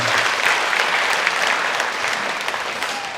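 Church congregation applauding in welcome during a Sunday morning service, a dense, steady burst of clapping from many hands filling the room at even loudness throughout, with no voices over it.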